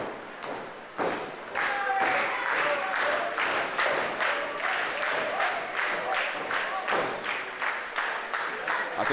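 A sold-out wrestling arena crowd at a DCW women's match, heard as rhythmic unison clapping and stomping thumps in a steady beat with cheering, loud and enveloping throughout.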